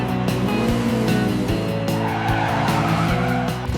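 Cartoon rally cars race with continuous loud tire squeal and skidding over roaring engines, a dense unbroken stream of motor noise with repeated sharp skid bursts.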